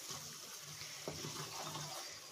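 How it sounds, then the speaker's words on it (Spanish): Water poured into a kefta tajine of minced meat, a Moroccan dish, during cooking, giving a steady close splashing wash throughout. "en este punto le voy a echar un poquito más de agua"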